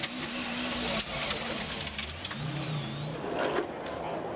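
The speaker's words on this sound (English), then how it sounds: "Kenneth tries to drive through too quickly and the water claims its second victim" A Subaru rally car charges through a water splash at speed during a WRC rally, its engine revving and whining with a rushing, sloshing wash of spray, while a voice talks over it.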